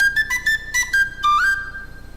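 A penny whistle played in short chirpy bursts, several quick high notes in a row followed by a longer slide upward, bright and close with no voices.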